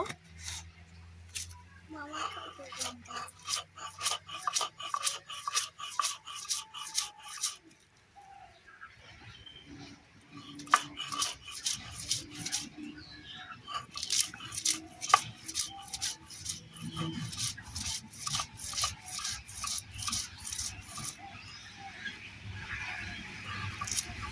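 Chili and salt being ground by hand on a traditional grinding stone in a village kitchen, a steady run of rhythmic scraping strokes with a brief pause midway, close and fairly loud, with birds chirping in the background.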